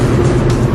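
Loud engine note from a Honda CRX Si accelerating past a Honda Fit, a steady throaty drone heard close from inside the car, with no one talking.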